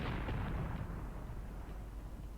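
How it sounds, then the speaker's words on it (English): Artillery shells fall around a crossroad in the wartime tactics game Graviteam Tactics, a heavy low rumble of blasts that is strongest early and then rolls on as a continuous, slowly fading barrage. "There's artillery fire that is falling everywhere here"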